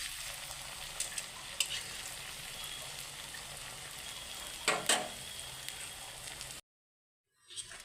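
Langcha, sweets, fry in a light amount of oil with a constant soft sizzle and a few clicks from a stirring utensil, before the sound cuts to silence near the end.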